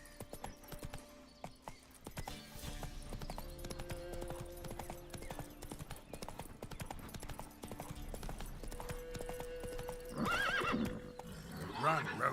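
In The Witcher 3: Wild Hunt, a horse gallops with steady, rhythmic hoofbeats and gives a whinny near the end, set against game music and sounds, with a voice heard.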